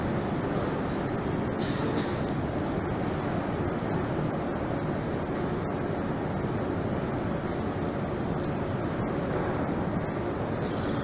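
Inside Novokrestovskaya metro station in Saint Petersburg, a steady loud rumble of a passing train fills the space, with continuous rolling noise and no talking.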